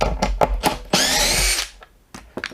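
A power drill whirs briefly to back a SPAX screw out of wood, a loud high whine lasting under a second and preceded by a few short taps and clicks.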